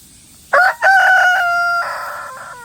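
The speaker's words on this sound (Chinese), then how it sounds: "每天见面之后必须要对着我打鸣" A rooster crows once close by, loud and clear, a drawn-out call with a short rising start and a long wavering tail.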